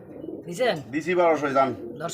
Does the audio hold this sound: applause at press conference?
no